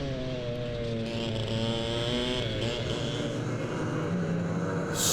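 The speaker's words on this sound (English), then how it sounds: "you can hear Randall's engine in the background" A Club100 racing kart engine at a sprint race on the Glan Y Gors circuit drones steadily nearby, a buzzing tone that rises and falls in pitch with throttle changes, with faint talk beneath it.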